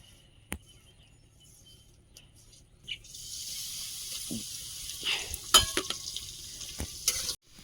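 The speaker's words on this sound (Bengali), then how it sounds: "তেল দিয়ে দেব লবণ হলুদ দিয়ে চিংড়িটা ভেজে নেব" Prawns fry in oil with salt and turmeric. A quiet stretch with a couple of isolated knocks gives way to a sustained soft sizzle, broken by sharp clinks and scraping from stirring in the pan.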